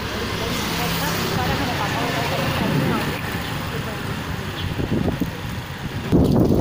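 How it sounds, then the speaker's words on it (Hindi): Strong wind gusts outdoors on a home lawn where mint grows, a steady loud rushing roar buffeting the microphone throughout, with a heavier gust near the end. "बहुत तेज हवा चल रही है यहाँ पे"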